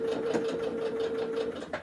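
A sewing machine runs steadily while stitching a quilt, giving a continuous, even mechanical whir with a light rhythmic clatter, close and alone.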